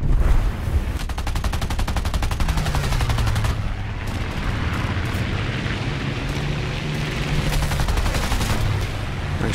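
Rapid machine-gun fire from the wing guns of a Fiat CR.32 biplane in War Thunder arcade air combat, long continuous bursts over a steady engine drone, loud and close throughout.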